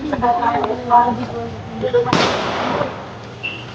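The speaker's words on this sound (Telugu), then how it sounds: "దసరా రోజు దివాళీ సెలబ్రేషన్స్, క్రాకర్స్ స్టార్ట్ అయిపోయినాయి అప్పుడే" A single sharp firecracker bang bursts out during Dasara festivities in a residential colony near a goddess shrine, its crack decaying over about a second amid nearby chatter, with a faint whistle-like tone following.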